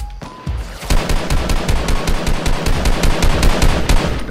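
Rapid automatic gunfire in the Fortnite mobile video game, a loud burst of evenly spaced shots in quick rhythm lasting several seconds, close and dominant with no voices.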